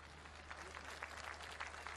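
Studio audience on a Turkish TV show applauds to welcome the first guest, a dense, steady patter of many hands clapping heard at a moderate distance for two seconds.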